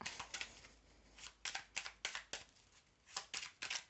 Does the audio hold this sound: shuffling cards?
yes